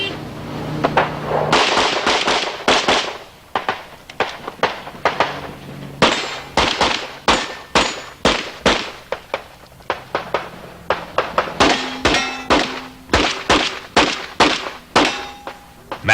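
Rapid pistol shots from a Clark Custom longslide 1911 Colt at a USPSA Nationals shooting match, loud sharp reports fired in quick strings with short pauses and a few metallic clangs of steel targets.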